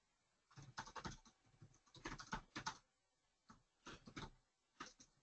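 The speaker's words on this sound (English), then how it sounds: "The video will play, and then I'm going to type." Someone typing on a computer keyboard in a lecture-capture setup, soft clustered bursts of keystrokes separated by short pauses, quiet and close with no talking.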